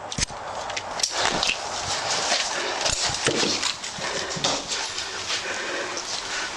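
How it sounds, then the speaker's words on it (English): A dog in a backyard at a house being cleared, barking and moving about close by in short, irregular bursts over a noisy outdoor background. "Dog."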